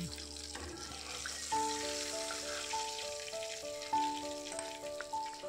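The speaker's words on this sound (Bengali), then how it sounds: "মাছগুলো ভাজা হয়ে গেছে," Pabda fish fry in hot oil in a village kitchen, a faint continuous sizzling hiss beneath soft background music.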